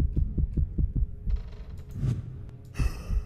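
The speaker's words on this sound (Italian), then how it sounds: "Io vedo solo il battito di Manu comunque" Heartbeat sound in the horror video game Dead Realm: a steady series of low, muffled thumps at a regular pulse, later joined by creaks and mechanical hums from the game.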